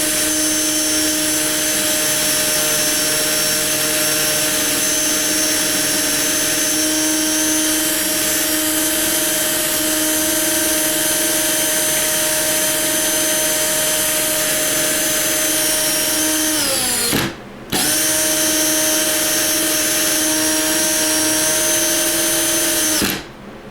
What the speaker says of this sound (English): Get the wire wheel on the body after it came out of the stripper and had a little bath.